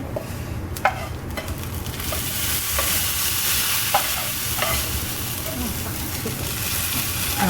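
Fried brinjal is tipped into a simmering karamani kuzhambu and stirred, a steady close sizzle with scattered spoon clinks and scrapes against the pot.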